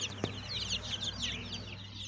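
Jersey Giant chickens clucking and chirping in a farm setting, a busy overlapping chorus of fairly close calls with a brief thump near the start.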